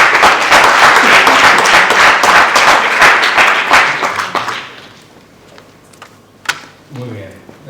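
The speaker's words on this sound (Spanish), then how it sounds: "por favor, un gran aplauso para Jaime Jofré" A lecture audience gives a long, loud round of dense applause that tapers off after about four seconds into scattered claps and a few faint sounds in the quiet hall.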